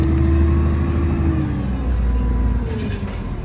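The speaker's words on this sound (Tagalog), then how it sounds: "So ito yung bus guys oh." A bus engine running up close, a loud steady low rumble with a faint rising whine as it pulls away, no talking.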